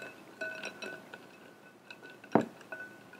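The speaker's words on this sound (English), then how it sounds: "you're going to stir it, ice cubes and all, into your Jell-O" Ice cubes clink against the sides of a glass bowl as cold water is stirred into Jell-O, with scattered light taps and one sharper knock, fairly quiet and close.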